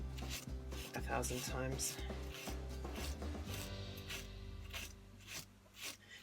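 A Norse knife blade being sanded by hand with sandpaper and paste: repeated rasping back-and-forth strokes, close and rhythmic, running under a man's speech.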